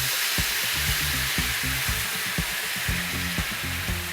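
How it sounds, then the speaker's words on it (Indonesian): Spice paste for chicken sautéing in a hot pan, a steady broad sizzle with soft periodic stirring or scraping knocks underneath, close and continuous with no talking. "sekarang kita akan tumis bumbunya"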